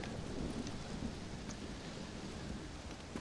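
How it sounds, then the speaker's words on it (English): A thunderstorm in the Red Dead Redemption: Undead Nightmare video game, with a steady wash of rain hiss and soft low rumbling that holds evenly throughout, with no one talking. "Well, it's just the storm, John."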